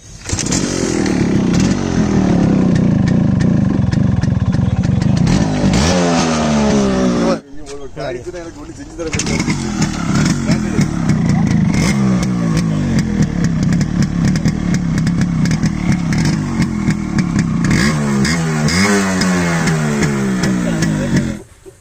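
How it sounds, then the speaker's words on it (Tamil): A Yamaha RX135 motorcycle revs hard through its silencer exhaust, loud and close, rising and falling in pitch. Near the middle there is a brief drop to idle, then the revving picks up again. "இப்போ இந்த வண்டியோட வந்து சைலன்சர் சவுண்டு கேட்கலாம்."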